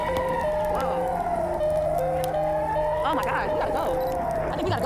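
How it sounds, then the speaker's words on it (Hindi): Emergency sirens sounding during an early-morning music festival, several overlapping wailing tones rising and falling continuously at moderate distance, with a voice talking over them. "सायरन बजने लगते हैं"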